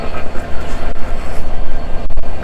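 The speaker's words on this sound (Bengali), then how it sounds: "আমাদের ট্রেনটি" A passenger train running from Dhaka to Satkhira, heard close from on board, gives a loud continuous rumble and rattle with no pause.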